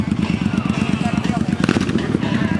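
A crowd of motorcycles idles and revs before a 2020 bike week parade, a loud, pulsing low engine rumble close by, with people talking over it throughout.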